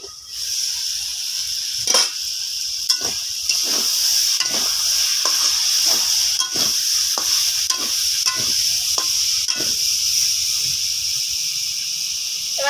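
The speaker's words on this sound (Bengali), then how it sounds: "আমি তিন থেকে চার মিনিট মতো ডালটাকে কষে নিয়েছি" Dal sautés in a covered kadai on the stove, a steady loud sizzle broken by regular spatula scrapes and stirring knocks every second or so.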